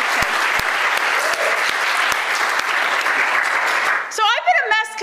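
Audience applause at an academic keynote address for a graduate student symposium, loud sustained clapping from a large crowd for about four seconds, then a voice begins speaking as it fades.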